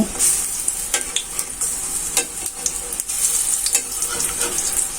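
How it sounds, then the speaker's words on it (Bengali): Oil sizzles continuously as lentil fritters fry, with scraping and clinking of a spatula turning them at irregular intervals. "বড়াগুলো আমি এভাবে উল্টে পাল্টে ভেজে নিব।"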